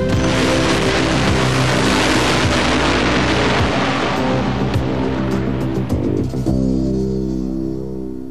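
A drag racing car on a drag strip roars loudly and steadily, engine and tire noise filling the whole stretch before easing slightly toward the end, with no talk.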